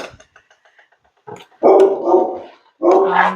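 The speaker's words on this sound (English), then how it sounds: "I don't know why Basil's barking." A dog barks indoors in a kitchen, a few faint muffled yips first, then two loud, close barks separated by a short pause.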